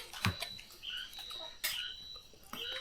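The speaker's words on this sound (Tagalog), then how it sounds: "Kuliglig nga." Faint outdoor night sounds at Kayapa in Benguet bring high, thin chirps and short bursts of calls over a quiet background, the kind of insect chorus crickets make, heard at a distance.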